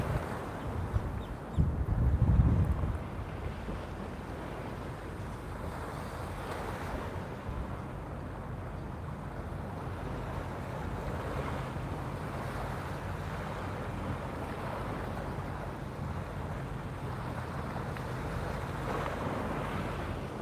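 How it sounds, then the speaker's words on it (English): Ocean waves washing onto a beach at sunrise, a continuous broadband roar of surf with gentle swells and steady wind buffeting, sustained throughout with a brief heavier gust or wave near the start. "the sound of the waves"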